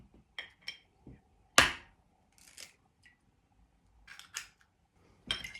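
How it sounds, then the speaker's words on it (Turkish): Eggs being cracked for an orange almond cake, with a handful of sharp, close knocks and cracks spaced irregularly against a quiet background, no talking. "Yumurtalarımızı kırıyoruz."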